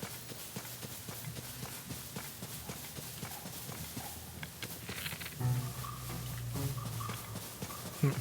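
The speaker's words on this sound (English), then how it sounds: "Those are like bokoblins on a horse." Horse hooves clip-clop at a running pace in The Legend of Zelda: Tears of the Kingdom, a steady rapid patter under game music, with a louder passage near the end.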